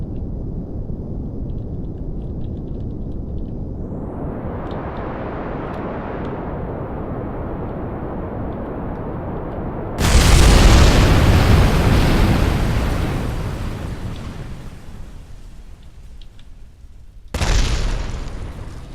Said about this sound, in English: A little nervous by the number of parts exploding around me.